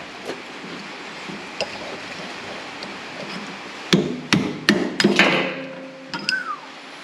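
Chisel or punch being hammered on a shaft during bearing and shaft repair on an MF 3075, with a cluster of hard metallic strikes about midway and lighter taps before and after, close by, with no talking.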